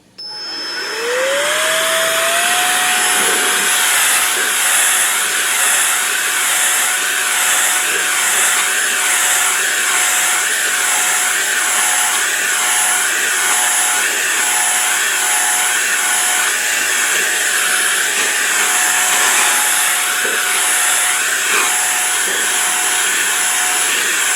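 Roedix 3-speed electric compressed air duster running on medium, blowing dust off a screen: a loud, steady motor whine and rushing airflow that rises quickly at the start, then holds constant and close for the whole stretch.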